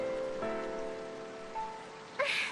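Steady rain falls across the Sunleth Waterscape in Final Fantasy XIII, a soft continuous hiss under faint tonal music, with a brief louder splash near the end.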